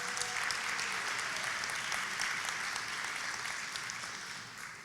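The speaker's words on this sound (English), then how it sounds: "I want to give Rich Bradley and BPS a round of applause" An audience at a community cabinet meeting with the mayor applauds, a dense, steady wash of many hands clapping that fades slightly toward the end, with no voices over it.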